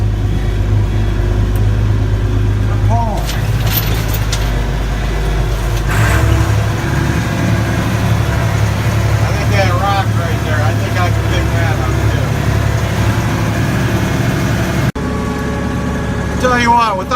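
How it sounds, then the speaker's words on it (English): Agricultural tractor tires without chains spin on a slippery hard surface, giving a steady loud engine drone and rumble with a strained tone shifting midway, and a voice talking over it. "These agricultural tires just spin on any type of slippery, hard surface."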